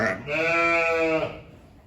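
A ewe in a barn during lambing gives one loud, drawn-out bleat up close, lasting about a second before trailing off.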